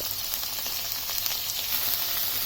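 Onions and tomatoes fry in a pan with a steady, close sizzle and soft crackle that holds without a break and has no talk over it.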